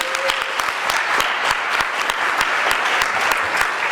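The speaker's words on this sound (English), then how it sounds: "we'd like to give a huge round of applause to our assistant coaches" A crowd at a speech team gathering applauds assistant coaches, dense sustained clapping with distinct sharp claps standing out, loud and continuous from start to finish.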